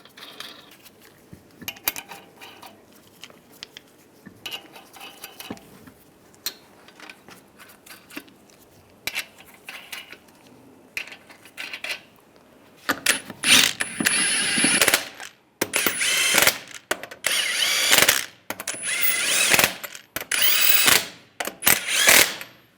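Metallic clicks, ratcheting and clanks as lug nuts are fitted and tightened on a wheel of a 2007-2013 Chevrolet Silverado 1500, sparse and faint at first, then busier and louder.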